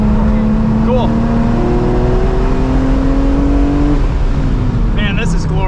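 A track-prepped 2005 BMW E46 M3 Competition with a 6-speed SMG gearbox and CSL tune: a loud, steady engine drone climbs in pitch, drops sharply on a downshift with a quick throttle blip, then pulls up again.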